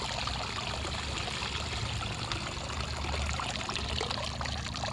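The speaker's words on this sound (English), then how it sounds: "I'm gonna strain the water off" Hot water strained off a pot of freshly cooked wild-caught shrimp, pouring in a steady, continuous splashing stream that runs close and loud for the whole stretch, with no talking.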